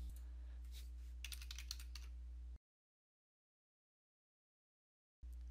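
A few quick, faint keystrokes on a computer keyboard typing a short word over a steady low electrical hum, followed by a sudden drop to complete silence.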